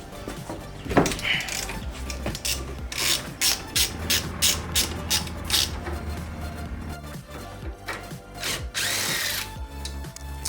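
Ratchet loosening suspension bolts on a Toyota GR86 during a coilover install, a rapid series of close mechanical clicking and grinding bursts with short pauses between strokes, in a garage.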